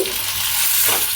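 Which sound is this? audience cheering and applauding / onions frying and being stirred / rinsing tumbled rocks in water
onions frying and being stirred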